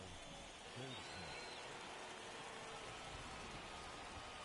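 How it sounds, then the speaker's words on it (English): Rain pours steadily onto a ballpark during a baseball game in MLB The Show 21, a dense, even hiss that continues unbroken throughout, with a voice briefly heard near the start. "the rain starting to intensify here. It's coming down a little heavier now."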